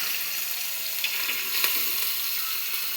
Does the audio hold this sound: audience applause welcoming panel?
no